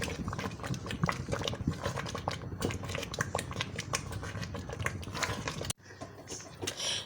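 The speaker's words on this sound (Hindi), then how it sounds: "दाल को हम ये देखिए तेज़ आंच पे अच्छी तरह पकाएंगे और बराबर चम्मच चलाते जाएंगे" Dal cooks over a high flame while a spoon keeps stirring it, making continuous bubbling and scraping with irregular clicks close by, then a brief break before the stirring resumes.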